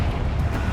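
A Confringo blasting spell explodes in the Hogwarts Legacy video game, a short, loud, low rumbling burst that fills the brief moment with dense, broadband roar.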